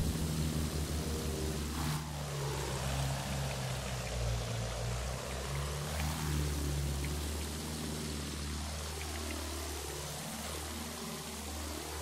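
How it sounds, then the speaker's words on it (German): A Battlefield 1 airplane drones through a dogfight with a steady engine hum, its pitch dipping and swooping as it passes and turns, alone and fairly loud throughout. "Flugzeug in Sichtweite!"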